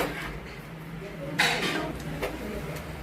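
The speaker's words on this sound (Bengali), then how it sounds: "মাছ ভেজে রাখা মাছটা ভালো করে মিশিয়ে নিচ্ছি" Fried fish is mixed with onion, garlic, mustard paste and green chillies in a pan, heard as close metal clinks and scrapes of a utensil against the pan, with one sharper clank in the middle.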